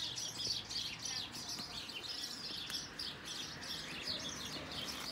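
Sparrows squabbling outdoors near a garden bed, a rapid, busy chatter of high chirps and tweets that continues throughout at moderate distance, slightly faint against a soft outdoor background.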